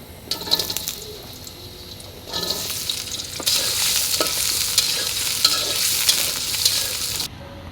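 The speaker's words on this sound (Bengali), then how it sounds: "আলুটা আমি কিছুক্ষণ ভেজে নিচ্ছি" Potatoes frying in oil in a pan for a noodle dish, a close sizzle that grows into a loud, steady crackle with occasional stirring scrapes before stopping abruptly.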